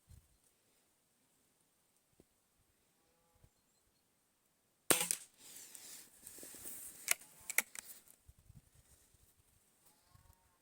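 Shanghai B1-1 air rifle fired from a rest: a loud sharp crack near the middle, followed by a few clicks and handling noises, with quiet stretches before and after.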